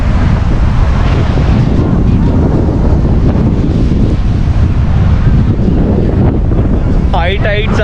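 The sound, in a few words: high tide waves and wind at Calangute Beach, Goa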